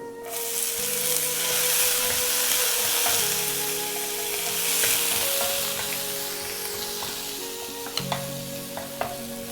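Urad dal and chana dal fry in hot oil with a steady, loud sizzle, stirred now and then with faint scraping clicks near the end; no voices.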